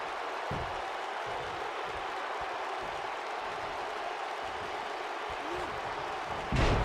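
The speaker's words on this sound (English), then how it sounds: "The crowd is all over the place right now." An arena crowd in the WWE 2K19 wrestling game roars and applauds continuously, a dense wash of cheering with scattered thumps underneath and a louder swell at the end.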